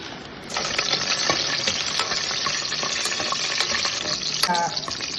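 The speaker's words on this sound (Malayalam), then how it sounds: "പിന്നിടാനുള്ള അണ്ടിപ്പരിപ്പ് വറുക്കണം." Cashew nuts fry in hot ghee in a pan for a Kerala ghee rice and chicken curry, giving a loud, close, steady sizzle throughout with scattered crackles and stirring clinks, and no talking.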